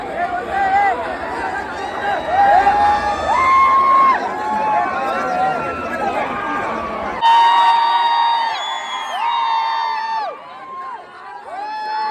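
A large crowd erupts in loud cheering, whooping and shouting after a bullock cart race win, with many voices overlapping close by in a sustained, energetic roar.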